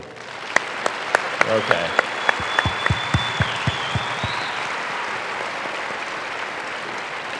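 An audience at a presidential forum breaks into sparse, scattered claps that stay fairly faint and irregular over a broad crowd hum, while someone says a word.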